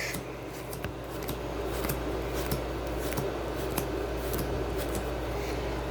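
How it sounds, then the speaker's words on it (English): Trading cards from a Salamangreat deck being removed from the top of the pile, with close crisp snaps, flicks and slides of card stock in quick irregular succession and no talking. "We will banish the top 10 cards of our deck."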